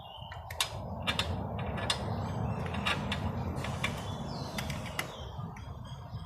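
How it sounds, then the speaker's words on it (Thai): Ratcheting, creaking mechanical clicks from a tool tightening a bolt on a Yamaha Nouvo-MX scooter during valve clearance adjustment, a series of irregular sharp ticks over a steady low background hum. "ใส่น็อตยึด แล้วเราจะใช้เครื่องมือนะครับ ค่อยๆขันเข้าไปทีละนิด"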